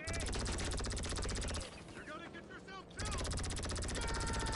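Rapid automatic gunfire in GTA V Online, a dense continuous rattle of shots that drops out briefly in the middle, leaving quieter game sounds, then resumes at full loudness.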